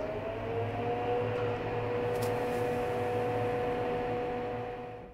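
An A/C refrigerant charging machine hums steadily while automatically charging a VW Jetta's air conditioning after a compressor replacement, a constant mechanical drone with faint tonal whine that tapers off at the end.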